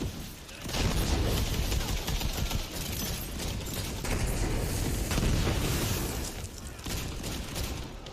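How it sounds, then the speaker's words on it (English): Rocket explosions hit behind the player in Borderlands 3 amid a dense, continuous barrage of booms and gunfire, loud and sustained for several seconds with no voices. "It's always scary seeing the rockets hit behind me."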